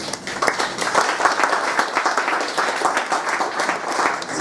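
Conference audience applauding at a colloquium, a dense, steady wash of many hands clapping close and loud throughout, with no voices over it.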